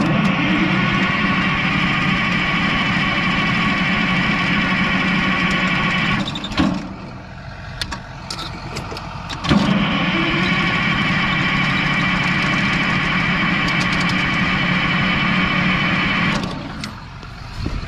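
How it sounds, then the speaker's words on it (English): An irrigation pump motor engine runs at a loud, steady idle close by, then drops off briefly and picks back up to the same droning rumble. "I got to start this motor to move the irrigation."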